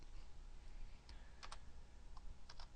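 A few light computer keyboard keystrokes, faint, scattered clicks, some in quick pairs, alone over a quiet hiss of room noise.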